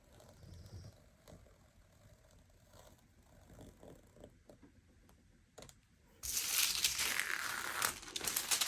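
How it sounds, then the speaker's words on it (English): Scissors slice through diamond painting release paper along a strip of washi tape, first a few soft snips and rustles, then a louder sustained crinkling cut close by, with no voices. "I'm going to cut along my washi tape here and along this row."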